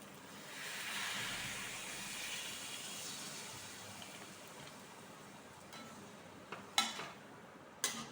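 Water poured into a hot pan of spiced fried potatoes sets off a loud steamy hiss that swells and then settles into a softer sizzle, with a couple of sharp utensil knocks near the end.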